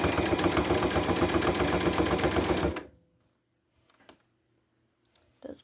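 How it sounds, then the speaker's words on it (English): A sewing machine stitching fabric runs in a steady, loud mechanical buzz for almost three seconds and then stops. A few faint clicks and handling noises follow in near silence. "Does look like it's sewing properly."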